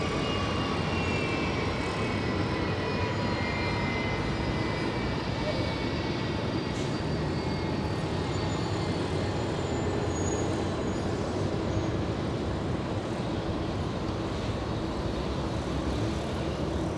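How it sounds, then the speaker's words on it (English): Boeing 757 airliner passing at Los Angeles International Airport, a steady broad jet roar that stays loud and constant throughout, with faint voices at times underneath. "Look there at it goes, the 757"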